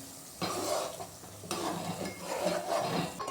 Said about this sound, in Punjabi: ਹੁਣ ਵਿੱਚ ਵਿੱਚ ਘਿਓ ਨੂੰ ਹਲਾਉਂਦੇ ਰਵਾਂਗੇ